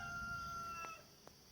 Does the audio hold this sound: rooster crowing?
yes